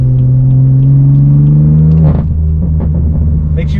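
A 2022 BMW M3 Competition G80 with a tuned exhaust drones loudly, then its dual-clutch transmission snaps through a quick shift midway, the engine note dropping abruptly before rumbling on.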